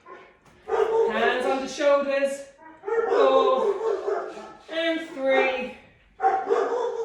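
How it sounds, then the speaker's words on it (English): Several dogs at home bark and yelp in bursts over and between an instructor's spoken exercise cues, the barking fairly close and repeated in three or four loud stretches. "Sorry about my dogs."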